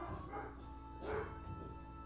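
Dogs barking in the online game FFXI on the HorizonXI server, quiet and slightly distant: a few short yipping barks spaced about a second apart over a low background hum.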